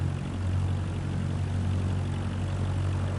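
Small propeller plane in Microsoft Flight Simulator 2024 droning steadily in flight with flaps up, a constant low engine hum and propeller buzz holding at even loudness throughout, with no voices.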